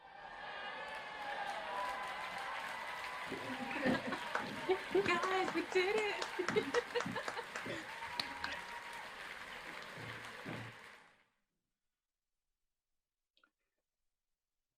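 Scattered applause and clicks from graduates over unmuted microphones during an online graduation ceremony, mixed with chatter and laughter for about ten seconds before cutting to silence; one person calls out over the noise.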